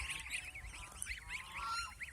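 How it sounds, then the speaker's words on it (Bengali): Ducks at a duck farm in Mohanganj, Netrakona, giving off steady honking, overlapping calls from a nearby flock that keep going without pause, with no talk. "আর এখনও উমের ঘর থেকে হাঁস আসতেছে।"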